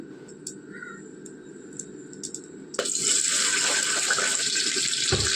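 A kitchen tap suddenly bursts into a steady, loud gush of running water after a few quiet seconds, and hands are rinsed under it while cooking.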